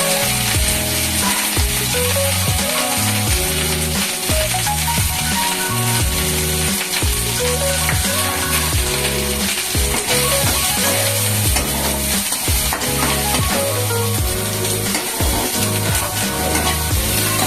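Onions and curry sizzling loudly in hot oil in a pan for a mutton dish, with steady frying crackle and repeated scraping stir strokes throughout, no talking.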